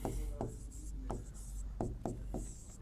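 Equations being written by hand make a series of separate scratchy strokes, about eight of them, close and fairly quiet, in an uneven rhythm with brief pauses between them.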